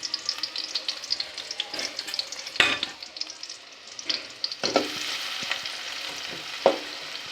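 Chopped onions fry in hot oil in a kadai for a Bengali beef curry, a crackling sizzle under repeated scraping and stirring strokes, with a few sharper clatters and some watery splashes, no voices.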